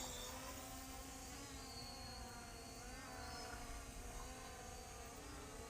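MJX Bugs B5W GPS drone flying outdoors, a faint, steady buzzing propeller whine with slight pitch wavering as it moves around.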